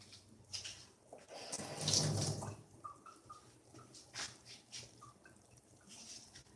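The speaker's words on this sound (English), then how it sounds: "I'm gonna add more water." Water runs briefly from a tap around bath bombs, a rushing splash swelling in the middle before fading to light trickles and drips.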